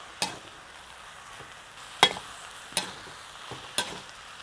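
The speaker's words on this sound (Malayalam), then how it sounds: "നമുക്ക് സൂക്ഷിച്ച് ഇങ്ങനെ ഇളക്കി കൊടുക്കാം." Egg and colocasia mixture stirred slowly in a pan, with four distinct scraping strokes spaced about a second apart over a faint, quiet sizzle and no talking.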